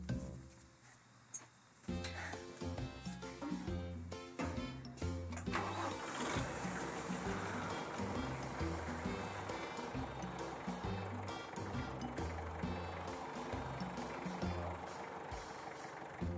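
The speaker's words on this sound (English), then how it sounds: "A wagon and a tractor." A tractor pulling a wagon through an apple orchard starts up and then runs steadily with a loud, chugging mid-range engine drone and rhythmic mechanical clatter for the rest of the stretch, close by and with no clear talk.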